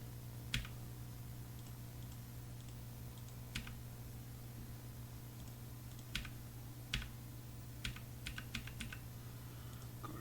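Computer keyboard typing during play of the game Zeliard: sparse single key clicks, then a quicker cluster near the end, close but faint over a steady low electrical hum, with no talk.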